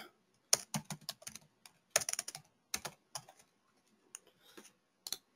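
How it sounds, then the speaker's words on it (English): Typing on a computer keyboard during a .NET programming demo, heard as bursts of close, crisp key clicks with short pauses between groups, alone without speech. "Okay, he will be typing."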